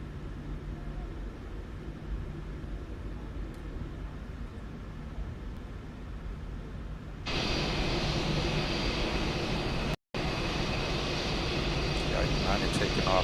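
Airplane departing from a runway in South Beach, its engine noise rising abruptly to a loud, steady roar midway through, with radio-style voices talking beneath the engine noise earlier on.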